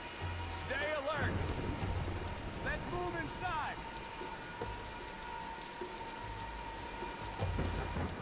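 Steady rain and distant storm rumble fill the wilderness of Tomb Raider (2013), a constant wash of falling water running under brief voices and game sounds.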